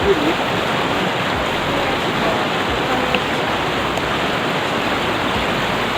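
A waterfall on the Narmada river during the rainy season fills the air with a steady, loud, unbroken roar of rushing water, with no other sounds standing out.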